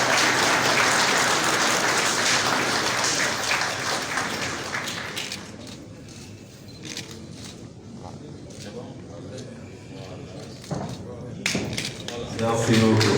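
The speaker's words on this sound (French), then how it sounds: "et ça s'accompagne d'applaudissements" Loud applause from the audience at a director-general handover ceremony in Burkina Faso, thick clapping that fades into a speaking voice, with scattered claps and a fresh burst of applause near the end.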